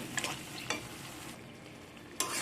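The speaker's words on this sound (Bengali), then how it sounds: "এই বড়িগুলো দিয়ে দেব সবকে ভালো করে আবার মিক্স করে নেব" Bori and spinach curry is stirred in a pan, giving a soft sizzling bubble with a few scraping utensil strokes and a louder clink near the end, quiet and close.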